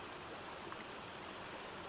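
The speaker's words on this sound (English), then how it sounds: "Rain trickled down leaves, dripping from one to the other, before joining a trickle of water on the ground." Rain water trickling down jungle leaves and dripping onto a small ground trickle, a steady, soft, continuous wash of running water with no distinct individual drops standing out.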